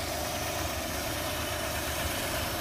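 A 1989 Suzuki Zebra engine runs at a steady idle, a fairly quiet continuous hum with a faint vibrating rumble and no talk.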